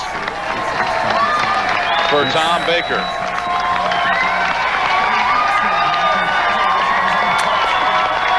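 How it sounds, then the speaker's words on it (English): A crowd at the 1998 Brentwood Classic bowling tournament title match claps and cheers loudly and continuously, with scattered whoops. An announcer's voice is heard over the noise. "And a big round of applause"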